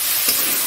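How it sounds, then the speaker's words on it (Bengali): Ginger and garlic paste hitting hot oil in a pan, giving a brief, loud, steady sizzle and hiss. "আদা বাটা, রসুন বাটা দিয়ে দিচ্ছি।"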